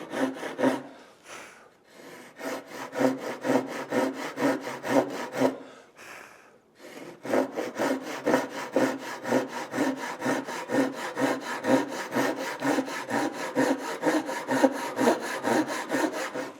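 A Japanese ryoba hand saw cutting wood in steady, rhythmic back-and-forth strokes, close and loud, pausing briefly twice before resuming the even sawing.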